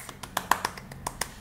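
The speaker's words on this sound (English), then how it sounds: "everyone, clap your hands" Children and a teacher clapping hands during a kindergarten classroom brain break, about ten quick, uneven claps in a short, close burst with no talking.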